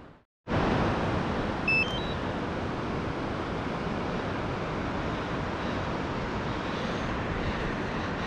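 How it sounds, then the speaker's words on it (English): A drone flying near a bridge over a river, with a loud, steady broadband whir that starts abruptly and holds evenly, with a few short electronic beeps near the start and no voices. "I'm gonna try and fly the drone up off the bridge here"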